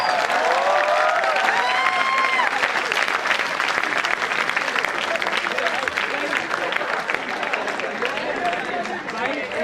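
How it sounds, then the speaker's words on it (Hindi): Audience applause at a mushaira poetry gathering, a full crowd clapping steadily and fairly loud for several seconds, with voices heard over the clapping at the start and the sound easing slightly toward the end. "एक बार ताली हो जाए"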